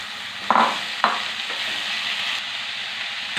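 Snake gourd sizzles in a hot pan with a squeezed mixture added, as a spoon stirs it in a couple of sharp scraping strokes over a steady, moderate frying hiss.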